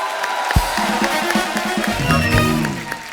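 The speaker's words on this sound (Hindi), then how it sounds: "जोरदार तालियां" Studio audience of a Hindi TV comedy talk show cheering and applauding loudly as guests are welcomed, a dense crowd roar with music underneath.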